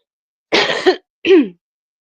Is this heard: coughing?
yes